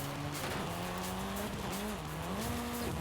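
A Fairlady car in Forza Horizon 5 brakes hard while racing, its engine droning with shifting pitch as tires squeal and skid continuously, loud and close, with no talking.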